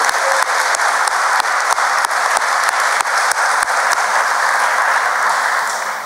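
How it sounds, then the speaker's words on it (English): A large crowd at a city celebration gives a loud, sustained round of applause, dense and even clapping with occasional crisp individual claps, tapering off slightly at the close. "So I think they deserve a huge round of applause."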